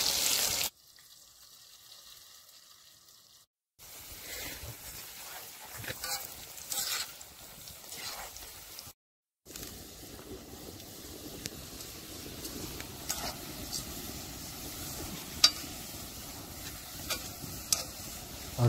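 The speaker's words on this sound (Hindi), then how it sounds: "तेल गरम हो गया गाइस, तो डाल देते हैं पकौड़ी" Pakoras dropped into hot oil over an outdoor cooking fire sizzle steadily with a soft crackle, close but moderate in level. Two short silent gaps interrupt the frying early on.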